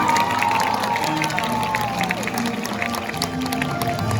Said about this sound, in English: When I say action, I want you to put your hands together and clap as loud as you can for Maddie.